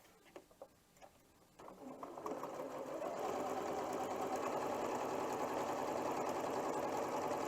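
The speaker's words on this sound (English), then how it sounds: "And now I'm sewing the medium to the dark unit." A few soft clicks of handling come first, then a sewing machine starts up and runs in a steady, fast, close-up whir as it stitches quilt fabric units together with a quarter-inch seam.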